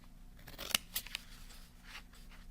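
Scissors cut cardstock at an angle for a triangle lesson, making several quiet, close snips and crisp paper rustles with no talking.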